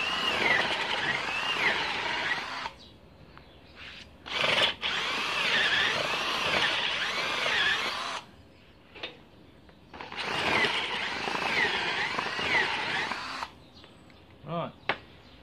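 A hand-held power drill bores into a wooden log being shaped into a reindeer, running in long whining bursts of a few seconds each, separated by pauses and brief clunks as the bit is stopped and cleared.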